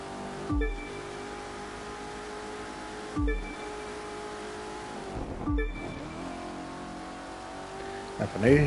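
Hypercar engine in The Crew 2 drones steadily as it drives, with brief engine bursts and sharp shifts at intervals, heard under a voice talking throughout.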